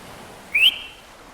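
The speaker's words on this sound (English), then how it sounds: "sharp whistle." A single short, sharp whistle rises in pitch and is heard clearly on its own, loud and close, lasting well under a second.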